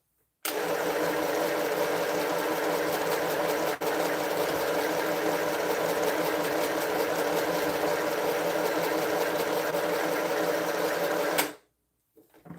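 A small sewing machine stitches in a steady, fast whirring run for about eleven seconds, close and alone, then stops abruptly into quiet.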